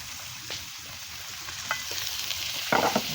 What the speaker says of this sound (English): we can go ahead and sear our steak.